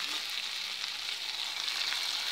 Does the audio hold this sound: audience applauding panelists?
no